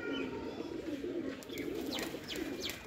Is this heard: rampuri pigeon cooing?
yes